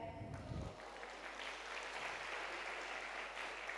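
An audience claps at a cultural program during a women's conference. The applause is a faint, distant, steady patter that runs for several seconds.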